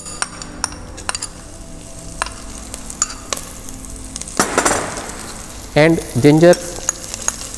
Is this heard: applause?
no